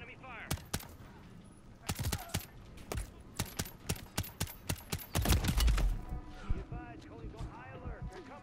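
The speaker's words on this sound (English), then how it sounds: "There's enemy fire." Bursts of enemy gunfire in Modern Warfare 3 on the Precious Cargo mission, sharp irregular shots and short volleys crackling nearby, with a heavier cluster midway and scattered shots trailing off.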